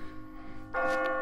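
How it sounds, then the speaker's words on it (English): In the video game Catherine, a bell rings near the exit, a single bright, resonant strike entering partway through and ringing on over a soft tonal game background. "As you near the top, you will hear a bell ringing."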